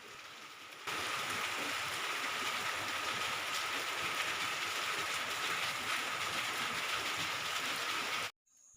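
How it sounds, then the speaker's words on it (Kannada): Heavy rain pouring down steadily in a dense, even hiss that starts abruptly and cuts off near the end. "ಎಷ್ಟು ಮಳೆ ಅಂದರೆ ಜೋರು ಮಳೆ ಬರ್ತಾ ಇದೆ"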